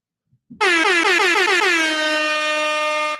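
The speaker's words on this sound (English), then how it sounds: "Can you hit me one more time with the air horns?" A loud air horn blares in rapid repeated stutters, then holds as one long sustained blast, alone and up close.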